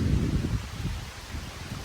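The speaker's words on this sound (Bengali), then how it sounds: "অনেক বৃষ্টি আর অনেক বাতাস।" Gusts of wind during rain rush through leaves in a low, close rumble that dips and returns over a couple of seconds.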